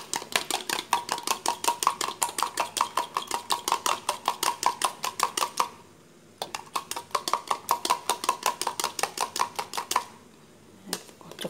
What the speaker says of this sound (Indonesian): Ini kita kocok.